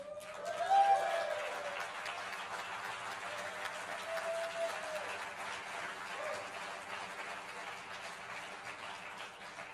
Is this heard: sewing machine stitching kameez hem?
no